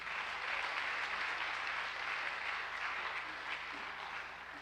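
A church congregation applauding Jesus Christ during a worship service, with dense, continuous clapping from many hands. The sound is steady and somewhat distant, with a faint low hum beneath it.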